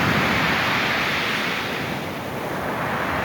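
Rough sea surf crashes onto a stony shore in a loud, continuous roar of breaking waves, with no voices.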